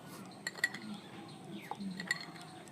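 Spoon clinking against a glass or bowl while sugar goes into watermelon juice, a few faint, sparse metallic taps in a quiet kitchen.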